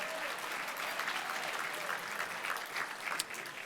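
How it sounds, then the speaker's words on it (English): Steady applause from a crowd, a dense wash of clapping that holds at an even level throughout, with no voices over it. "So let's give David a big round of applause."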